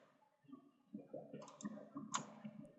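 Several mouse clicks during CATIA design work, quiet and close, scattered irregularly over faint background noise with no speech.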